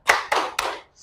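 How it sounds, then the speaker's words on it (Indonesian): Three quick rhythmic claps ring out from a classroom group during a school lesson, loud and close, with no voices heard. "Tepuk tangan untuk kita semua dulu"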